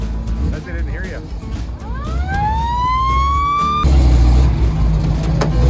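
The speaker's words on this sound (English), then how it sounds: "He has a working siren on it." Working siren on an old fire chief car at an outdoor car show, a loud rising wail that climbs steadily and holds high while engine rumble and people talking continue close by.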